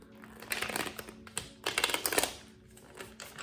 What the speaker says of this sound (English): I'm trying to shuffle and the cards are just bunching up together.